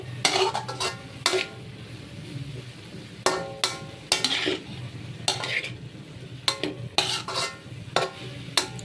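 Shredded cabbage sautéed with garlic and onion in a pan: repeated bursts of a metal spatula scraping and clanking against the pan over a low, quiet sizzle.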